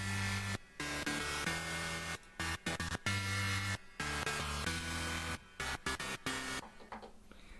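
Layered synthesizer presets backing a sub bass in a hard dance lead arrangement, playing chopped rhythmic chords with abrupt gaps, dense and bright, then fading to a softer tail at the end.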